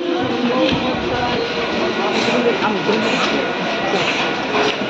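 An arriving train rumbles and clatters nearby, a continuous loud mechanical roar with rhythmic rattling, while voices talk over it.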